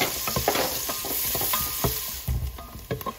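Onions frying in olive oil in a pot are stirred, with a close, steady sizzle broken by rhythmic scraping strokes of a spoon against the pot, with no voices.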